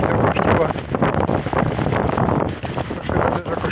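A strong gusty wind storm with rain roars and buffets the microphone on a street in Kraków, loud and continuous, with a voice talking over it.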